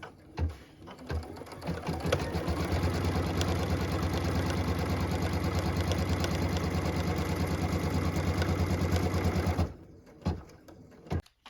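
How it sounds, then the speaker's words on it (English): Embroidery sewing machine stitching a tack-down line through fabric in a hoop for a pieced flag quilt block, a steady, loud rapid needle rhythm running for about eight seconds after a few brief starts, then stopping. "What we're stitching now is the tack down line for piece number 6."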